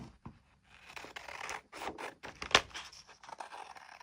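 Scissors cut a picture out of paper in a series of close, crisp snips and rasps, with short pauses and one sharper snip partway through, heard alone without talk.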